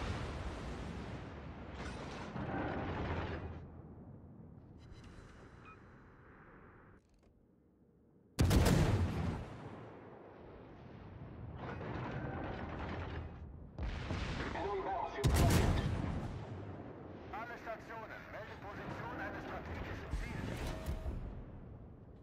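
Warship naval guns fire in a World of Warships battle: heavy, booming salvos erupt at intervals over a rumbling battle bed, with two especially loud, close blasts.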